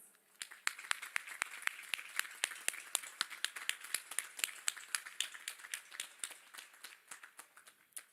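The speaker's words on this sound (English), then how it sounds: "Please join me in thanking them with a round of applause." A commencement audience claps in thanks, though sparsely: distinct individual hand claps in a quick, uneven rhythm, moderately close, with a thin crowd wash behind them.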